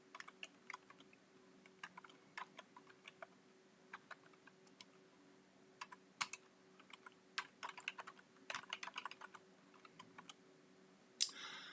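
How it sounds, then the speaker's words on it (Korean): Typing on a computer keyboard while entering programming code from a textbook, with irregular bursts of light key clicks and short pauses, close and fairly quiet, without talk. "책에 나온 거 똑같이 타이핑을 치죠"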